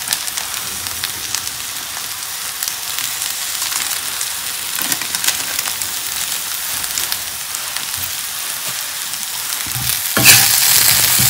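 Eggplant and potato frying in oil with spices in a pan, a loud, continuous close sizzle with scraping stirring and a brief louder hiss near the end, no voices.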